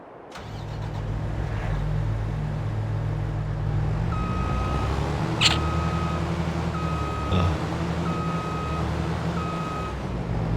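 Repeating electronic reversing beeps from a vehicle in a video game, a regular evenly spaced pulse over a low engine drone.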